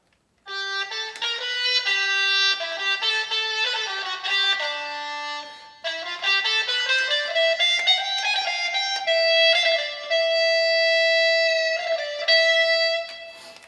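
A Roland Aerophone digital wind instrument on its guitar preset plays a melodic phrase of sustained, bright, distorted notes with pitch glides, steady and alone.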